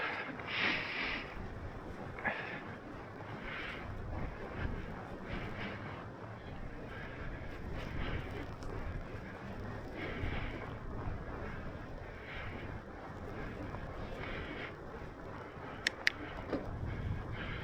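Gusting wind from a snowy blizzard rumbles and buffets the microphone throughout while fat biking in a city, swelling and easing in uneven waves, with a sharp click near the end.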